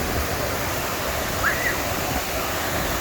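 Steady rushing of a stream running over rocks, a constant broadband wash of water filling the scene with no talk, close and even throughout.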